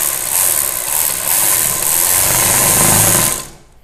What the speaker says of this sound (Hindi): फिर हम इसको एक पैर की सिलाई की मदद से कोने कोने पे हम सिलाई लगा देंगे